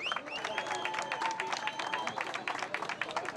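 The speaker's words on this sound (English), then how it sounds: "On peut les applaudir très très fort, s'il vous plaît." Crowd applauding the winners of the Rallye de Nouvelle-Calédonie, a steady wash of clapping from a large audience with a voice over it.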